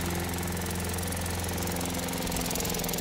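A small engine with a stuck exhaust valve runs steadily after starting, a loud, rapid mechanical chugging with a buzzy, rattling drone that holds even throughout, with no talking.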